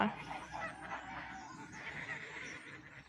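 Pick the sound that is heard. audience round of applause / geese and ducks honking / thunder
geese and ducks honking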